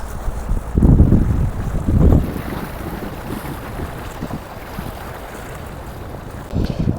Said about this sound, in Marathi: आता ही दुसरी बोट एंटर करते